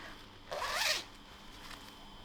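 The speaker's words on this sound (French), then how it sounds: "j'ai monté une fermeture éclair invisible sur le côté" An invisible zipper on a sewn summer dress is pulled once in a quick, raspy zip lasting about half a second, followed by a faint second slide amid quiet room noise.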